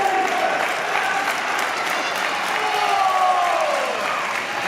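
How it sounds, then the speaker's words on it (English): A wrestling event crowd keeps up sustained applause with some cheering, a steady wash of clapping that fills the arena, with a whistling tone sliding through it. "Crowd pumping up."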